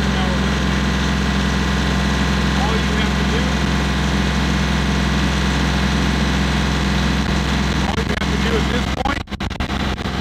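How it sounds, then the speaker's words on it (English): Tractor engine running hard through an exhaust regeneration cycle, a loud, steady low drone with constant hum throughout, ending in a few brief clicks and knocks. "it may be a little loud outside with that regen in process. You may not have been able to hear me over the engine."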